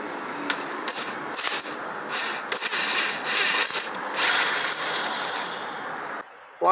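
A thread tap ratchets inside a Toyota FJ Cruiser A750F automatic transmission, giving a steady run of close, dense mechanical clicking and grinding for several seconds, then a brief pause and a sharp final clack.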